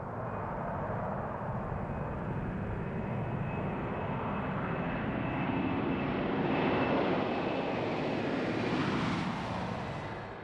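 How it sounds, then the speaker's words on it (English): A giant Boeing 747 jet on a test flight roars past in a steady, loud broadband rush that swells slightly toward the middle and eases off at the end, with no voices. "The first time this giant jet takes to the skies, it is flown by a Boeing test pilot."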